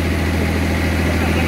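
A Lada Niva engine drones loud and close off-road during a stuck-vehicle recovery against a UAZ, a steady low rumble held under load for the whole moment.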